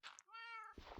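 A Minecraft cat gives a single clear meow, a rising then falling tonal cry of about half a second, close and alone, followed by short indistinct noises.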